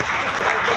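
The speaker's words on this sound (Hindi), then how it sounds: "एक बार जोरदार ताली बजा दीजिए क्योंकि अब कार्यक्रम शुरू होने वाला है।" Audience applause at a Constitution Day event held by a teachers' federation in Delhi: a steady, dense wash of clapping hands throughout, loud and continuous.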